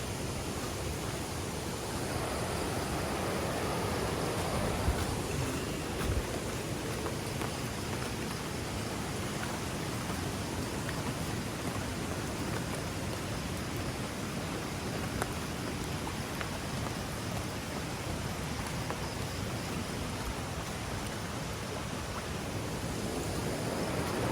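Heavy morning rain falls on a campsite in a steady, dense hiss that does not let up, with no voices over it.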